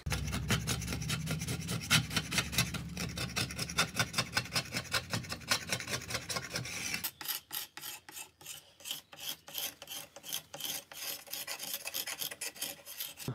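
White paint is sanded off natural wood: a loud, close abrasive rasping, first as a dense continuous scrub, then as rapid back-and-forth strokes in a steady rhythm.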